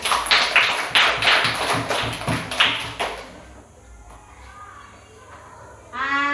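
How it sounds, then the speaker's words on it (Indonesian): Schoolchildren in a classroom clap together for a classmate in a rapid, rhythmic burst of close hand claps for about three seconds, then quiet room tone and a voice. "Tepuk tangan untuk Jofran."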